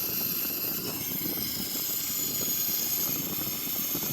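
Both jet engines of a Boeing 737-800 run in a flight simulator game, a steady high whine over a low rumbling roar, constant and fairly loud with no talk.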